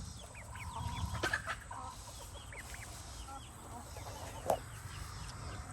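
Chickens cluck in a backyard coop where a young rooster is kept, soft repeated calls rising over a steady low outdoor rumble, with a sharper single squawk near the end.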